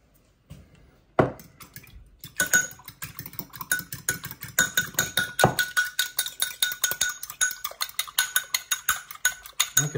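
A fork or whisk beating egg and cold water together in a bowl for a rhubarb pie egg wash, a fast run of sharp, close clinks and taps in a steady rhythm, after a couple of isolated knocks.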